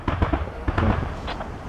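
Gunfire rattles in the military shooter game Squad on the Yehorivka map, as a series of quick, loud popping bursts spread across a short stretch, close and rhythmic.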